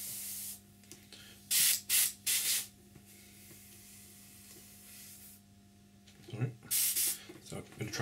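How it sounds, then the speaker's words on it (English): Airbrush spraying paint onto an Eduard 1/48 MiG-29 model kit, several loud hissing bursts separated by pauses, alongside a steady low hum. "So a bit of trouble with the airbrush there."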